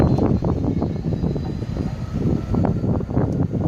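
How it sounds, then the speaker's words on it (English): A Class 66 diesel locomotive making a full throttle start, a deep rumbling engine roar with pulsing low throb, steady and fairly loud, no talking. "The 66 that I tried to film that stopped is just moving again, and it basically did a full throttle start."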